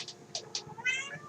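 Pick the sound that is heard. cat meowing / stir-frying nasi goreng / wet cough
cat meowing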